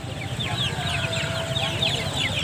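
Native village chickens and chicks at an animal market in Ngawi fill the air with steady clucking and rapid high chick peeping, a dense, continuous flock chorus close by.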